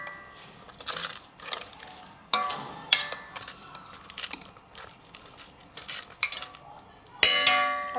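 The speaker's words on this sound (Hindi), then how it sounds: "अब हम पहले इसको चम्मच से थोड़ा सा मिक्स करेंगे।" A metal spoon stirring burger sauce of vinegar and soy sauce in a bowl, giving sharp irregular clinks and scrapes that come in bursts with short pauses, close and clear.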